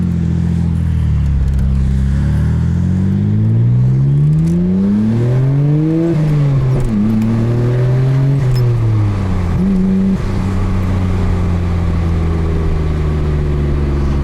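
A Nissan R32 GT-R's RB26 engine, near-stock with aftermarket intakes and catback exhaust, revs up loudly through climbing gears, pitch rising and falling across several shifts, heard from inside the right-hand-drive car with no talk.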